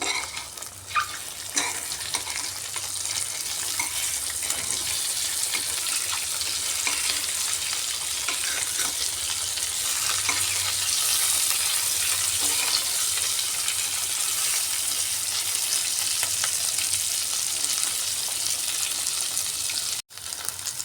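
Eggs frying in mustard oil in a pan give a loud, continuous sizzle with scraping stirs as they are turned over, cutting out abruptly near the end.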